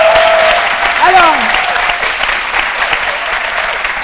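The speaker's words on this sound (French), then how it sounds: "Je crois qu'on doit encore l'applaudir." Studio audience on a French-language TV talk show breaks into steady, loud applause, sustained throughout with voices mixed in.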